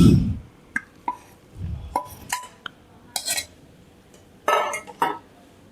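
Ground lentils for dal vada tipped into a bowl, heard as soft thuds and plops mixed with clinks of a utensil against the bowl, in scattered separate bursts with no talking.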